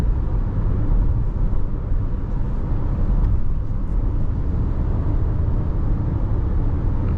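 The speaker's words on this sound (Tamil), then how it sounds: "ஜஸ்ட்டு 4th கியரில் தான் இருக்குது, எனக்கு கியரே தேவைப்படல, அதுவாக ஏறி போயிட்டுருக்கு." A Nissan Tekton 1.0L turbo manual car cruising on a highway in 4th gear produces a steady, even engine and road drone that runs unbroken throughout, with no voices.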